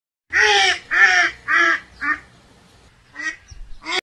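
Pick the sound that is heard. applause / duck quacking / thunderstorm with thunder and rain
duck quacking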